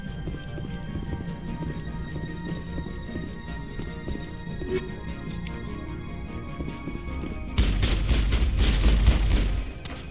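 Gunfire erupts in a firefight in Mass Effect, with rapid loud shots breaking out near the end after a stretch of quieter game sound and faint background noise.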